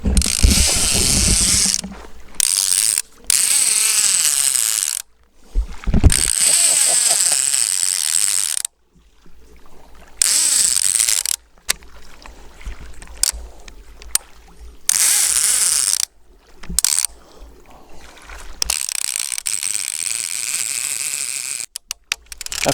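A fishing reel's drag ratchets as a fish runs with the line at a lake bank, a loud close clicking buzz in long bursts broken by sudden stops and restarts.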